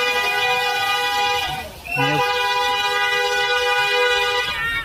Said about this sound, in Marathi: सगळ्या गाडी घ्या हॉर्न मारतच चाललाय